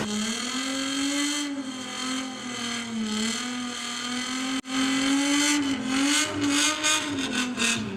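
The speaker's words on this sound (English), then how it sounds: "If you ever want to know how to do a burnout in your street car, by the way, that's the way to do it." A street car at the VWDRC drag racing finals at Santa Pod does a handbrake-held burnout, its engine screaming at sustained high revs, cutting out briefly, then roaring back with pulsing surges.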